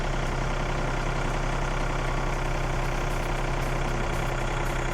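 A Yanmar EF393T 39-horsepower used tractor engine runs steadily during a driving demonstration, a constant loud diesel drone with an even knocking texture throughout, no talk.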